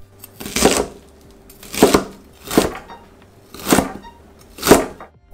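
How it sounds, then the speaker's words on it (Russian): A knife finely chops shredded white cabbage on a board for a street-food recipe, giving five crisp, evenly spaced strikes, close and alone. "И теперь все это нужно еще хорошенько измельчить."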